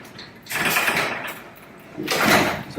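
A garage door rolls upward in two loud mechanical bursts of rattling and sliding, the second stronger, with a short lull between.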